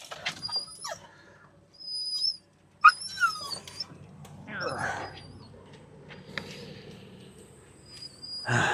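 Dog whimpering and giving short high yips in bursts during preparation for a walk on a road trip, heard near and fairly loud, with a person talking to it in between.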